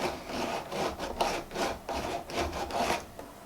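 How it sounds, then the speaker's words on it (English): A file rubbing back and forth across guitar frets while leveling them, a steady close raspy scraping in repeated strokes of roughly even rhythm, with no talking. "as you use the file, it changes. The sound changes, the feel changes"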